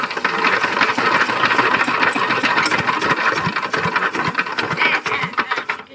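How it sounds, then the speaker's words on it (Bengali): A farm machine engine is cranked in an attempt to start it, producing a loud, close, rough mechanical chugging and rattling that runs continuously before tapering off at the end. "দেখা যাক মেশিনটাকে চালু দিতে পারি কিনা।"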